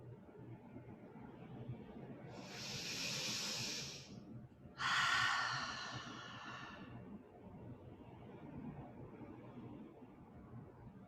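Two slow, deep breaths during a yoga session, a long airy inhale followed by a fuller exhale, close and audible over a quiet room with no talk.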